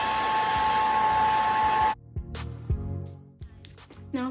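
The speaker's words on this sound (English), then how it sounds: "Take a blow dry." A hair dryer blasts at full power onto freshly applied makeup and lashes for about two seconds, loud and close with a steady roar, then cuts off, leaving faint handling clatter.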